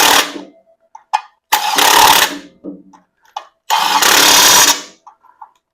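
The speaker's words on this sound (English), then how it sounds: "Buzz them in quick with this 1/4 inch impact." A 1/4 inch impact wrench drives in bolts during a Ford 289 engine swap on a 1973 Comet, sounding as two loud, close buzzing bursts separated by quieter pauses with faint clatter.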